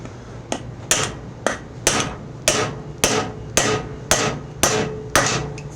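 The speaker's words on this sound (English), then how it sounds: "And whack it home." A hammer drives a front wheel bushing into the hub of a John Deere E130 lawn tractor with about ten sharp, evenly spaced metallic strikes, close and loud.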